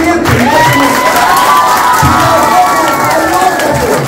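An audience at a private school celebration in Makhachkala bursts into loud, continuous applause and cheering, with children shouting in the crowd, close and dense throughout.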